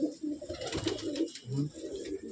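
Several Andhra pigeons in a loft give soft, rolling coos in short repeated phrases, nearby and fairly quiet, with no talking over them.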